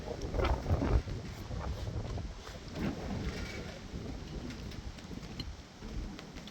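Outdoor wind buffets the microphone during an evening meal outside after work, a low, uneven rumble with stronger gusts early on that then settles into a softer, steady roar.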